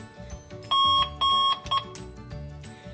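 An alarm clock made for deaf and hard-of-hearing users sounds three loud electronic beep bursts, two long and one short, over a low background hum.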